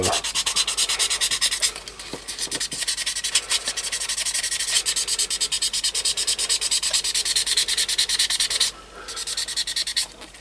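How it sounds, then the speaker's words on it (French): A part from a Jaguar E-Type is sanded by hand in steady rapid back-and-forth strokes, a dry close rasping that runs almost without pause and breaks off briefly near the end. "Ça je vais le poncer"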